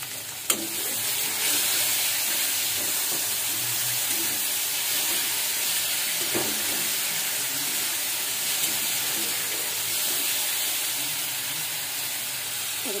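Chillies and tomatoes fry in hot oil in a home kitchen pan, giving a steady, loud sizzle with occasional stirring knocks and no talking.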